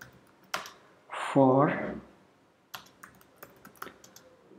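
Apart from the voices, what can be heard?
typing code on a computer keyboard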